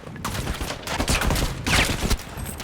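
Loud, close machine gun fire in Battlefield 5 bursts in rapid rattling volleys for a couple of seconds, dense and continuous with brief gaps between bursts.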